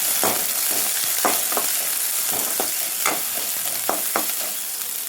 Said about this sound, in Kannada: ಒಂದು ಈರುಳ್ಳಿ ಇದರಲ್ಲಿ ಜಾಸ್ತಿ ಫ್ರೈ ಆಗೋದು ಬೇಡ